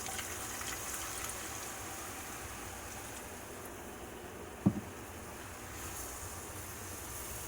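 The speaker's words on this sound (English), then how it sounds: "milk going in" Milk pours into a gravy pan of melted butter for Southern biscuits and gravy, a soft steady rushing, liquid flow lasting several seconds with one sharp clink partway through, close and alone.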